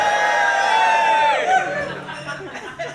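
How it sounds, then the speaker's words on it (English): A live gig crowd at Hebden Bridge Trades Club whoops and cheers loudly over a sustained ringing chord, then the cheering breaks into scattered chatter and laughter as the music fades. "You get to cheer there, everyone."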